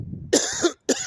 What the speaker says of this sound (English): no wonder I'm coughing